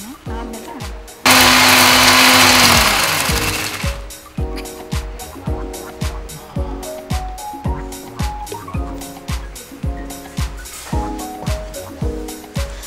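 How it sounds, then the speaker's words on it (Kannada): A kitchen mixer grinder whirs loudly for about three seconds while grinding ingredients for pathre leaves gojju, then winds down; a rhythmic, voice-like sound follows for the rest of the clip. "ಇದನ್ನ ಹಾಕಿ ರುಬ್ಕೊತೀನಿ"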